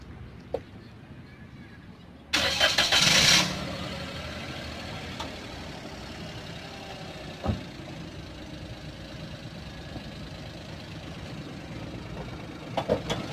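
A used Toyota Agya G TRD 1.0 automatic's engine cranks and catches with a loud burst, then settles into a steady low idle with a few clicks and knocks.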